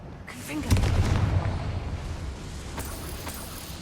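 A Confringo fire spell from the Hogwarts Legacy video game goes off as a deep, booming blast, swelling quickly and rumbling away over a few seconds, with a voice briefly present.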